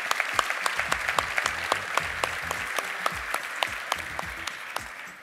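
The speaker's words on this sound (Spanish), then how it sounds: "Un fuerte aplauso para él, por favor." An audience at an SME innovation seminar and awards event gives a steady round of applause, dense clapping with a few sharper claps standing out, moderately loud and with no voices over it.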